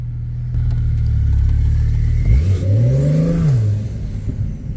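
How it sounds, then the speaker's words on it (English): A turbocharged Porsche 911 idles low, then revs up with a rising and falling engine pitch as it accelerates, loud and close, with a faint turbo whistling whine. "let me take it on the streets real quick so you guys can hear the turbos"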